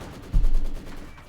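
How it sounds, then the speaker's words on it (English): A 120mm mortar round lands in a Company of Heroes 2 battle, one low, thudding blast that rumbles briefly before fading into the background din. "More mortar fire there."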